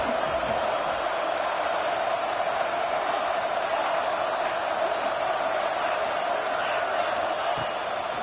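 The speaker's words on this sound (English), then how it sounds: "The Red Raider crowd rising to the occasion to help its defense on third down." A large stadium crowd of Texas Tech Red Raiders fans roars steadily during a third-down play against Mizzou, a broad, sustained wash of noise with no clear break, while an announcer talks over it.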